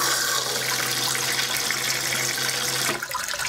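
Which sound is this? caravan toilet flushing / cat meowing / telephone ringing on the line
caravan toilet flushing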